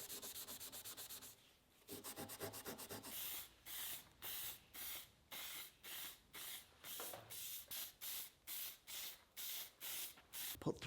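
Spray paint is applied to a slingshot gun built from scrap metal: a quick string of short, close hissing bursts in a fairly even rhythm, with one longer spray near the start.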